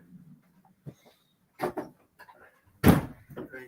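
A door shuts with a sharp, loud thump in a home, after a few softer knocks and bumps, while faint voices murmur around it.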